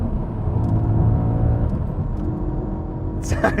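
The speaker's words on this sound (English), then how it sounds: "we've gone from turbocharging to naturally aspirated and a V8, which sounds" A naturally aspirated V8 in an Audi B7 RS4 gives a steady, low rumbling drone as the car cruises, heard from inside the cabin, with a brief sharp noise near the end.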